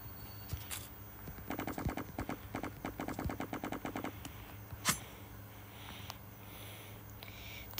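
Rapid bursts of automatic gunfire from a shooting video game, a fast rattling string of shots lasting a few seconds followed by a single louder report and a few scattered sounds, fairly quiet overall.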